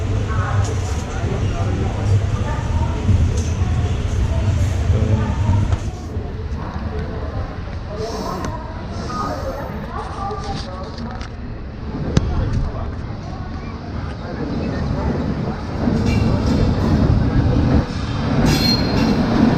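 A passenger train bound for Coimbatore heard from inside a carriage: a constant loud rumble of wheels on rails, with squeals and rattling clatter rising and falling, and people talking underneath.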